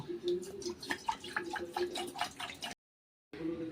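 Water pours into a pot on a gas stove in uneven splashing bursts, close and moderately loud, then stops abruptly before resuming briefly.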